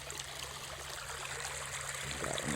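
Creek water runs steadily at close range, a continuous rushing trickle with no voices over it, in a natural stream channel during a March beaver-trapping outing.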